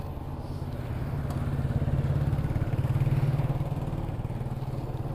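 A motorcycle engine drones steadily up close, its pulsing rumble swelling slightly in the middle before settling back, with no voices, riding with a passenger near Bolinao Falls, Pangasinan.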